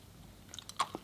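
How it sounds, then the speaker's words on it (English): Chewing extra peppermint chewing gum, soft close-up wet smacks and squishy mouth clicks, a few brief moist pops in quiet. "on stage or something like that, this chewing gum."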